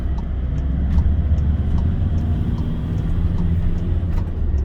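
A car on the road during a return journey gives a steady low engine and road rumble heard from inside, loud and constant, with faint small knocks and no talking.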